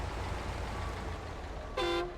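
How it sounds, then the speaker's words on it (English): Truck horn in the off-road driving game SnowRunner, a single short, loud honk cutting in at the end over a low engine rumble. "Feel the power of honk."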